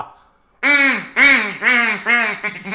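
A cartoon duck sound effect gives four loud, nasal quacks in a row, each with a falling pitch, following a short moment of near-silence.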